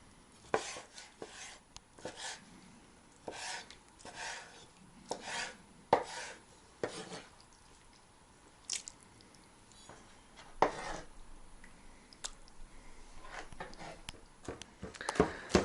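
A knife chops mushrooms on a cutting board in a kitchen: quiet, irregular taps and scrapes at varying pace, close but faint, with no one speaking.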